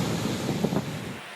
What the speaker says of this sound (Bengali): উত্তাল সাগর, আকাশের মুখ ভার,